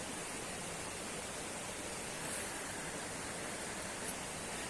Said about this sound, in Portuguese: eu estou aqui na beirinha da cachoeira